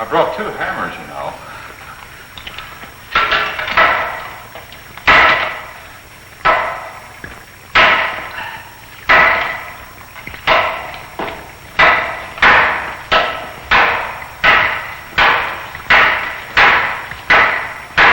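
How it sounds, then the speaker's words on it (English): Repeated heavy hammer blows strike a wall, roughly one to two per second and growing faster and more regular toward the end, each a sharp loud crack with a short decay, close and dominant in a 1951 film scene. "I brought 2 hammers, you know."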